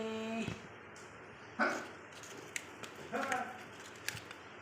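A few separate dog barks and yelps, spaced a second or so apart, over a quiet background on a rainy morning.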